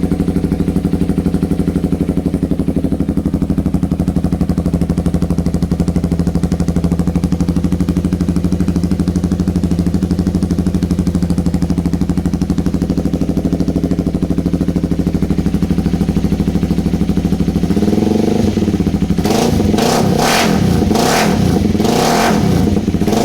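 A Honda Rebel 300 motorcycle fitted with a DanMoto Highwayman slip-on exhaust idles loud and steady up close, then gets several sharp throttle blips in the last few seconds.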